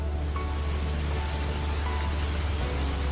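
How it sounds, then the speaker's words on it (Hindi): Steady rain falls on a road at night as streetlights dim, a continuous even hiss with a low rumble underneath and no voices, holding constant throughout. "और बारिश शुरू हुई।"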